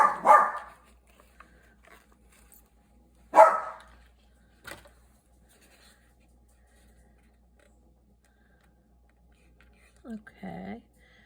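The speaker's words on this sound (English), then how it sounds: "sorry about my dog. He's barking in the background." A dog barks in the background of a quiet indoor room, two separate loud barks early on, a smaller yelp after, then a short whimpering whine near the end.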